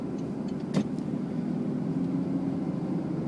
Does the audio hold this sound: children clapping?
no